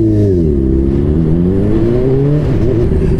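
A Honda CBR 600RR sport motorcycle engine revs close by, its pitch rising and falling through smooth throttle sweeps with a strong, steady drone.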